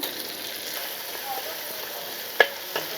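Green chillies, onion slices and curry leaves fry in hot oil with a steady, close hiss, broken by one sharp utensil clink and a softer tap.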